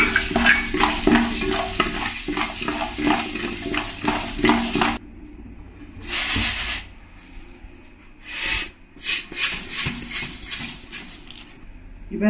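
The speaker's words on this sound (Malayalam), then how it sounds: "ജീരകം വറുത്തൊന്ന് ചൂടാകാം." Cumin seeds dry-roasting in a pan for homemade sambar powder, stirred with steady scraping and light sizzling that pauses briefly, then returns in short bursts.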